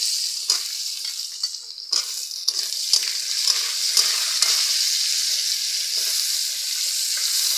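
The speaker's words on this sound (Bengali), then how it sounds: "এবার আমি সবজিগুলো কড়াইতে দিয়ে দিচ্ছি।" Vegetable stems frying in a wok for a vegetarian dish without onion, with steady close sizzling and spatters, plus occasional scraping stirs cutting through the hiss.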